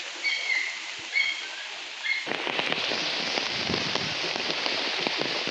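Heavy monsoon rain starts pouring down hard on a surface in rural Konkan during rice planting, a dense steady patter after a few bird chirps, continuous and fairly close with no voices.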